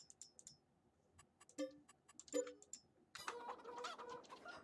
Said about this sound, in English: we're going to buy some chickens first